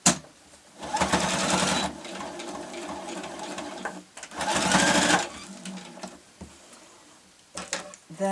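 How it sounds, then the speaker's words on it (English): A sewing machine runs in two steady bursts, putting a few securing stitches through a ribbon bow on patchwork fabric for a cosmetic bag, with quiet pauses and handling noises between the runs. "I'm just going to put a few stitches to secure that in the centre."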